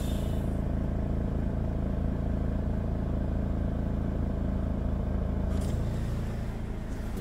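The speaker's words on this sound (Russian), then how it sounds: "Выжимаем сцепление, передачу, отпускаем сцепление." A DAF 105 truck's diesel engine idles with a steady, heavy low rumble and clatter as the clutch is let out in gear. The tone shifts slightly near the end, with no voices.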